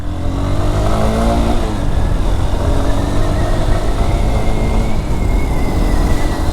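A Honda Hornet 2.0 motorcycle, low on fuel, revs hard with a loud, continuous engine roar. Its pitch rises and wavers as the throttle is worked and the engine threatens to cut out.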